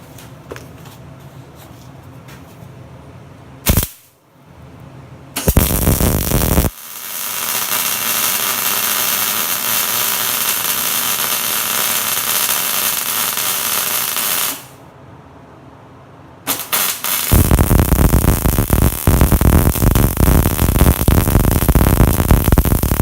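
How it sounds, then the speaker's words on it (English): MIG welding joining two steel pieces with a bead down the center seam: loud, steady crackling buzz in long sustained runs, broken by brief pauses between passes, with no talking. "I'm going to demonstrate putting two pieces together, and I'm going to weld right down the center of that"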